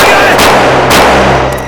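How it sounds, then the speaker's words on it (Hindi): A man who has stepped off a bus after a bus accident fires a gun at people, producing two loud, sharp cracking blasts about half a second apart over a dense, noisy background, with a third fainter burst near the end. "बस से एक आदमी आया और उनके ऊपर गोली चलाने लगा।"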